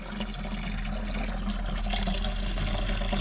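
Water mixed with pink antifreeze runs from an RV faucet line during winterizing, a steady, loud, continuous rushing flow with no pauses.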